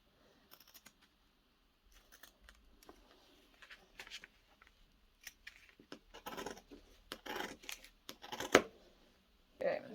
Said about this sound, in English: all we're going to do is cut out around this Christmas tree